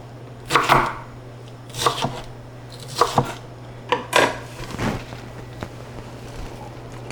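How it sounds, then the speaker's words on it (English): A knife rough-chops vegetables on a cutting board, close and clear. Scattered, uneven bursts of blade strikes come with short pauses over a faint steady hum, and no one speaks. "I'm going to rough chop that as well"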